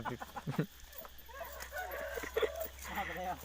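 A fighting rooster with other chickens clucking nearby, short clucks and calls scattered through the clip at moderate distance, with people talking in the background.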